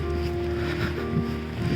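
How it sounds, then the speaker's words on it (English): Strong wind blowing during a snow storm in Thunder Bay, a constant close rushing roar with buffeting against the microphone, no speech. "look at the wind blowing"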